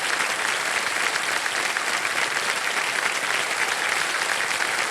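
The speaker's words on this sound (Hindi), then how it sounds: "तालियां बजती रहें इनके लिए" Sustained studio audience applause on the KBC Season 17 television quiz show, a steady dense wash of clapping that holds at an even level for the whole stretch, with no voices over it.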